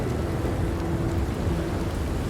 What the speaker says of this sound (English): it's raining again. It's always raining in this game.